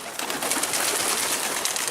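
Pigeons in a coop with chicks, giving soft, close cooing over a dense, airy background of rustle and hiss.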